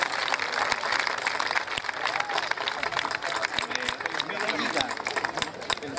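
Steady, dense clapping from a crowd at a children's cueca dance awards ceremony, loud and sustained throughout, with a lively roomy wash of noise and some voices mixed in.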